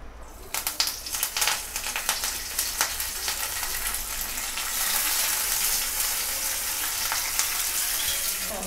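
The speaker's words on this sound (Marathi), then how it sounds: "चला कढई गरम झाली मस्त तापली या. आता घालूया तेल." Oil in a hot kadai sizzles loudly and continuously, opening with a few sharp crackles and pops, then settling into a strong, steady hiss up close with no speech.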